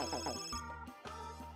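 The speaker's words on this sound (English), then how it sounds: "Hey, it's the phone." A telephone rings in the video game Custom Robo, its repeating electronic tone cycling in short bursts alongside game music.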